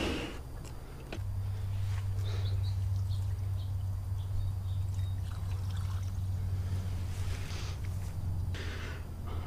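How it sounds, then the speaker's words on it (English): Excess water draining out of a de-ionizer tank full of old resin during a pure-water window cleaning resin change, a steady close trickling and pouring flow with a low hum running underneath. "first thing I'm gonna do is just drain off the excess water"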